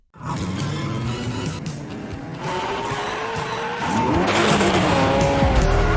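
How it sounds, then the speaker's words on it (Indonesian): Cars race in a chase scene from a drama, engines roaring loudly with repeated tire squeals and skids that build in intensity toward the end, with no talk. "Dongwook yang dikawal oleh Direktur Lee dan bawahannya memulai rencananya, dan aksi kejar-kejaran pun dimulai."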